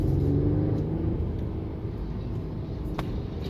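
A 2021 Mercedes E450 4MATIC accelerates in Sport Plus mode, heard from the cabin as a steady low engine and road rumble that stays moderately loud throughout.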